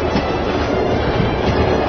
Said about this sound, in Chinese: 他们安排基文斯上了去赤塔的火车。